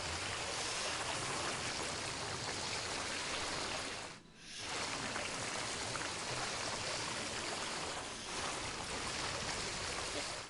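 Water flows continuously in the Jurassic World Evolution game, a loud, dense rushing wash like a stream that drops briefly twice before surging back.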